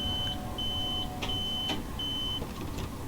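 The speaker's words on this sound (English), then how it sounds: "Now we get the alarm" A train safety system alarm in Train Sim World on the Harlem Line beeps in repeated steady tones, four long electronic beeps over a low cab engine hum with a few clicks between them.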